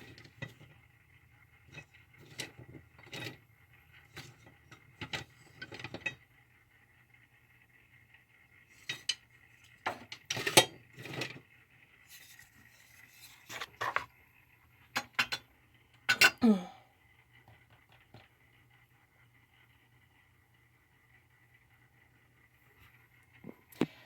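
Metal spoon scraping and clinking in a bowl of chocolate mixture for cookie dough, in scattered bursts of taps and stirring with quiet pauses between, close and moderately loud, no talking.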